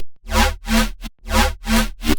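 A synth bass with a loose LFO wobble and a phaser effect pulses in four or five swelling, rhythmic bursts with brief gaps between them. It is loud and alone.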